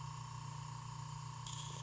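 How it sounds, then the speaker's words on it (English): An airbrush sprays red wash onto a miniature with a soft, steady airy hiss under a constant low hum, faint and close, with a slight brighter burst near the end. "But spraying washes is super fun."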